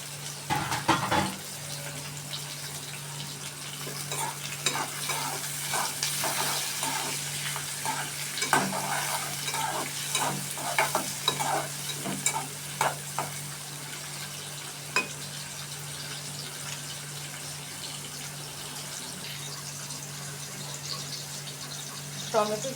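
Onion, tomato and cleaned dried fish sizzle in a frying pan while a utensil stirs and scrapes in irregular strokes, with a faint steady hum beneath and a person talking over it.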